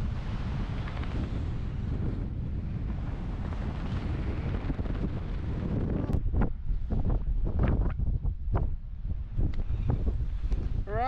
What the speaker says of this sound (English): The wind is absolutely brutal.